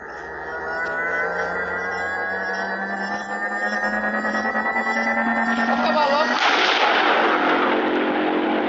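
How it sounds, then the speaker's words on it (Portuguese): Planet explosion in the Solar Smash video game, a sustained loud rumbling blast that swells and brightens midway into a harsher roar, with dense crackling texture continuing to the end. "É muita massa uma explosão do planeta."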